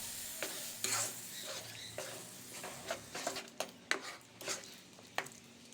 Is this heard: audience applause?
no